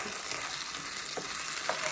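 Constant sizzling of chicken liver frying with onion in a pan, a steady hiss with faint stirring scrapes, fairly quiet and with no talking.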